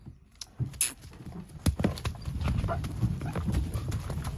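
A two-year-old isabelline (pale cream) mare's hooves clip-clop on hard ground in an uneven rhythm, close and fairly loud, with occasional voices nearby.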